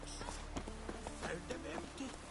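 Horse hooves in The Witcher 3 on PS5, a quiet run of rhythmic clip-clop steps heard under a continuous speaking voice.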